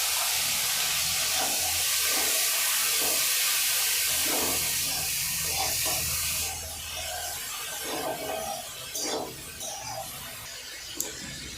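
A paste of ginger, garlic and green chilli hits a hot pan for chicken Maggi noodles, giving a loud, steady hiss for several seconds that then drops to a softer crackling sizzle with faint stirring, no voices.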